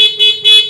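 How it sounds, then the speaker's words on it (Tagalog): Horn of a Yamaha Aerox 155 scooter sounds in two short, loud honks with a brief gap between them, close and with no other sound. "Ganito naman yung tunog ng kanyang busina."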